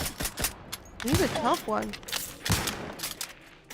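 Enemy shotgun fire in the video game The Outer Worlds 2, several sharp blasts scattered across the moment amid game effects, with a person talking over them.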